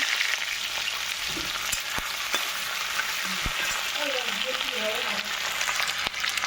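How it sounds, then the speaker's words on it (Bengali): Loud, steady sizzling of potatoes frying in hot oil, with occasional scrapes and knocks of a utensil in the pan. "তেলটা মোটামুটি হয়ে এসছে এখন আমি এর মধ্যে আলুটা ছাড়বো"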